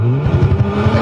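A car's engine pulls under steady throttle on a racing circuit with no launch control, a continuous loud drone with pulsing harmonics and no voices.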